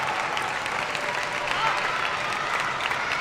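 Crowd at a China vs Japan table tennis semi-final at the Asian Championships, applauding and cheering steadily throughout, dense and sustained with no gaps.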